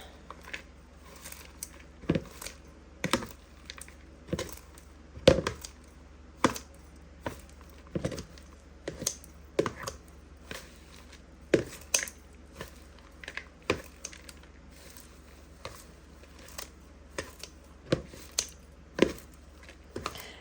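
Fresh herbs being cut up by hand for a homemade hair and body butter, sharp isolated snips or chops repeating at an irregular pace, close and fairly quiet with no talking.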